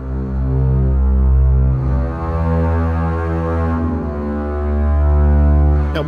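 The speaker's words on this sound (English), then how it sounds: "I realized that I was missing some low end, so I decided to let a bass sound come in." A deep sustained bass tone enters a composition for contact instruments, a low droning, gently throbbing hum that swells and holds steadily with shifting overtones.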